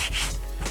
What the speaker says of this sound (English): I pressed a piece of sandpaper on there.